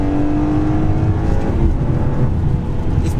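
A high-mileage BMW E46 M3 with an SMG gearbox and no traction control accelerates hard. Its engine gives a loud, continuous close-up roar that holds steady at high revs through the short run, with no talking.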